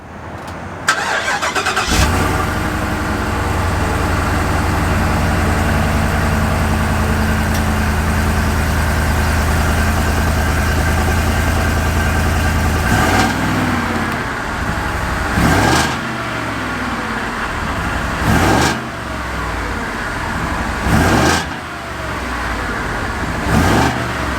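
A 2024 Ford Super Duty 7.3L gas truck engine cranks and starts, then settles into a loud steady idle, with several brief revs blipping near the end.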